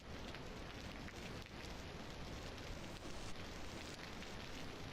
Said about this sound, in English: They sound like some really big raindrops.